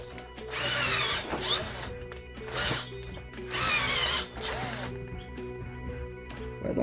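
A power drill bores into PVC pipe while making a pipe-based LCD screen puller, the motor whining in several surges of strain, close and steady with no talking.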